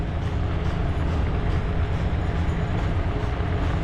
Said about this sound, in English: Racing the train and we're losing.